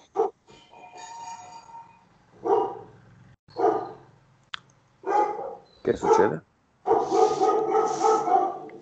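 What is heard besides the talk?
dogs barking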